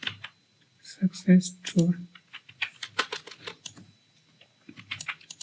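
Code is typed on a computer keyboard, heard as bursts of quick, close key clicks with someone talking intermittently over them.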